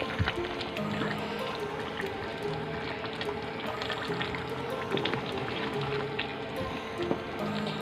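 Water poured from a glass into a pot of mutton stew, a soft continuous splashing and trickle with faint bubbling, close and fairly quiet, no voices.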